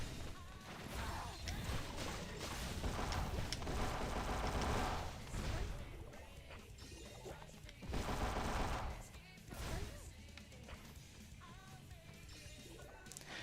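Rapid bursts of video game gunfire from Action Taimanin and crashing impacts fill the scene, loud and dense, rising and falling in waves with possible voices mixed in.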